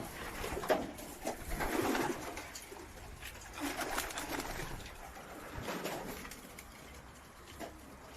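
Several pigeons cooing in low, throaty murmurs nearby in a pigeon loft, overlapping calls rising and falling in an enclosed space.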